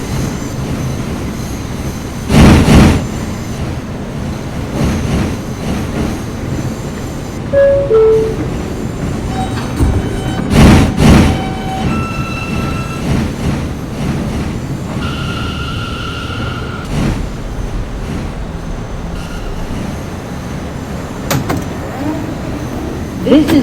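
An R179 M subway train rolls along the Myrtle Avenue line toward Marcy Avenue, a steady loud rumble with clattering wheel thumps and brief squealing tones, heard from inside the car.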